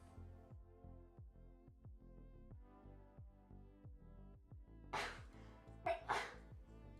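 A couple of sharp, breathy sneezes burst out near the end, over a steady patterned background hum, loud and close to the listener.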